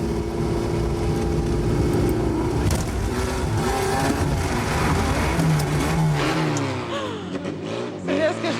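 A stunt driver's car drives and revs loudly with a steady engine roar that shifts pitch, with voices talking over it.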